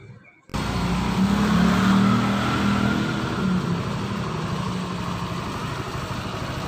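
A Yamaha NMax scooter with a rough noise from the top of the cylinder starts up and settles into a steady, close idle. The engine hum holds a low, even throb that eases slightly after a few seconds.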